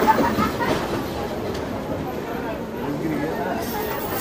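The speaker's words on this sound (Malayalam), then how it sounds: "ആക്ച്വലി ഇവിടെ ഒരു റെയിൽവേ സ്റ്റേഷൻ നമ്മൾ എത്തിയിട്ടുണ്ട് കേട്ടോ" Railway station ambience at Shivalingapuram, heard from inside a stopped passenger train on the Visakhapatnam to Araku Valley line: a steady murmur of crowd chatter and carriage rumble, people talking nearby throughout.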